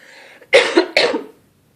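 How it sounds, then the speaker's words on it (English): Two sharp coughs in quick succession, close and fairly loud, after a brief soft throaty sound. "See, I've got this cough"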